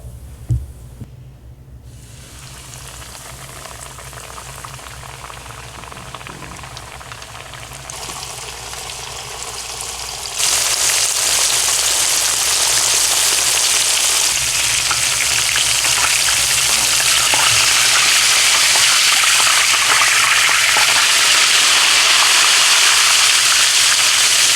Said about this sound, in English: So I'm just gonna drop a little bit of the batter in, and when you see it bubbling at the top like that,